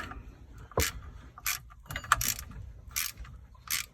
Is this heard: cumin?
no